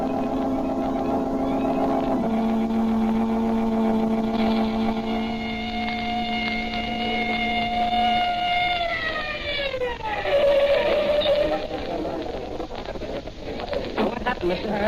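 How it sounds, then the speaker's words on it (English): A 1940 police car's steady engine drone with a rising, wavering siren-like tone that slides downward near the end, loud and close throughout. "I got the police car outside"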